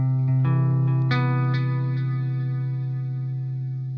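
Clean electric guitar through a Diezel Einstein amp tone with delay, reverb and chorus, playing a few picked notes into a sustained, shimmering chord that rings out and slowly fades.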